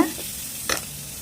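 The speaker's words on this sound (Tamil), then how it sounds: "அந்த பரண்ட இலை அதையும் போட்டு நல்லா வதக்கிக்கலாம் வதக்கும் போதே நம்ம இந்த துவையலுக்கு தேவையான அளவு உப்பையும் சேர்த்துக்கலாம்" Pirandai (adamant creeper) leaves being sautéed with salt in a pan for a chutney, a soft sizzle with a brief stirring scrape in the middle.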